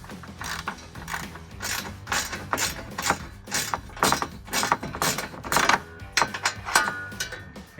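Rapid ratcheting clicks from a socket wrench tightening factory nuts on a Body Armor 4x4 interior storage rack in a Jeep Wrangler, close and irregular bursts with brief pauses, no talking.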